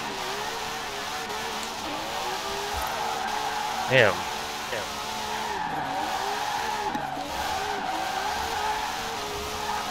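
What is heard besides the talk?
car engine and tires skidding in Forza Horizon 4 video game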